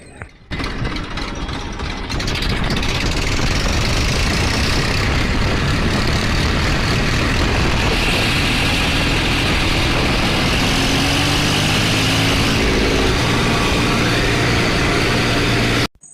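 A heavy Massey Ferguson 1035 tractor engine rumbles steadily and loudly throughout, a continuous low drone from close by, with no talking.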